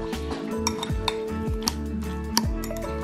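Spoon or fork mashing salmon, zucchini and seaweed into cauliflower rice in a bowl, with repeated close clinks and scrapes against the dish in an irregular rhythm, no talking.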